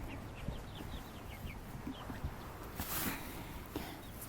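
Chickens cluck in quick, soft bursts while being fed garden scraps such as rutabaga and kohlrabi greens, with a low outdoor background.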